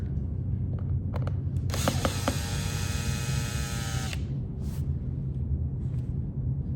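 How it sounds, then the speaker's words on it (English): A power screwdriver removes the last screw from a Flexsteel 1587 Carter console light fixture, a whirring run of about two and a half seconds with a few short clicks, all over a constant low room hum. "I'll remove the last screw here."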